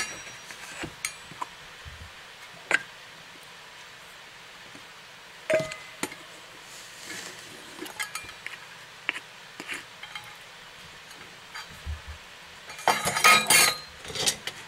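A spoon or utensil working whole wheat bread dough in a bowl, heard as faint, sparse clinks and scrapes against the bowl, with a brief cluster of louder clatter near the end.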